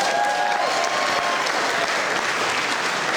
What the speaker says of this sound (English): give Lamar a round of applause